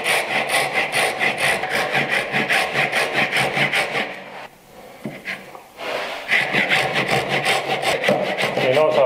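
A hand saw cuts a mitered bridle joint in wood with quick, rhythmic back-and-forth rasping strokes, pausing briefly midway before the close, steady sawing resumes.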